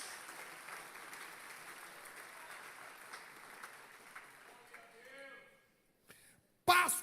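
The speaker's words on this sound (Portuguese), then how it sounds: "Quem pode aplaudir ao nome do Senhor" A church congregation breaks into applause for about five seconds, a dense broadband patter that tapers off, followed by a pause and then a short, sharp, loud burst.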